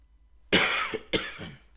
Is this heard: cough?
yes